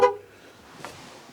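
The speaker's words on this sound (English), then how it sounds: "the triple pap to say, hey, you've left your keys in the car" An MG ZS EV horn gives a brief, fairly loud triple-pip keys-left-in-car alarm at the very start as the door shuts, then fades into quiet background hum.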